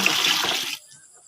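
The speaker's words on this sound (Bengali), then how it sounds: "এই 1 মগ পানি দিলাম" A mug of water is poured into a tub of cattle feed mixed from bran and husks, a brief close splashing gush that stops abruptly.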